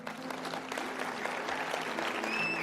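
Audience applause from a church congregation fills the room, a steady dense patter of many hands clapping nearby for a few seconds with no voices on top.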